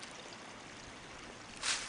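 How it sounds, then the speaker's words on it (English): A creek splits and flows in two directions through country terrain, a steady soft wash of running water with a brief brighter splash or gust at the end. "Part of the creek is going that way and part is going the other way."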